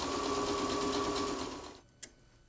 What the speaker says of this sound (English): I'm going to zigzag around the edge to keep it from fraying